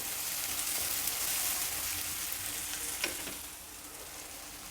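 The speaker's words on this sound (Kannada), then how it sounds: "ಒಗ್ಗರಣೆ ಹಾಕ್ಬಿಟ್ಟು ಅನ್ನನೂ ಸೇರಿಸಿ ಚೆನ್ನಾಗಿ ಹುರಿಬೇಕು" Continuous hissing sizzle of leftover cooked rice stir-fried in a pan with tempering, with occasional clinks and scrapes of stirring, no voices.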